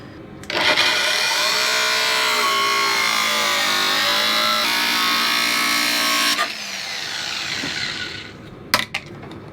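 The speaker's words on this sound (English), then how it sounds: "we're going to do that with the grinder" A grinder cuts and shapes a plastic rear wheel well liner for a Jeep Cherokee XJ, with a loud steady whine for about six seconds before it winds down, followed by a few sharp knocks.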